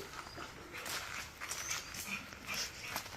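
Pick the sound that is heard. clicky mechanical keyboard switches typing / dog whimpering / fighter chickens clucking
dog whimpering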